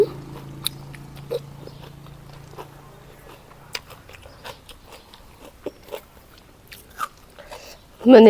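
Crunchy, close chewing of fresh raw vegetables eaten with spicy pounded shrimp salad, with irregular bites spread over several seconds in a quiet room and a brief voice near the end.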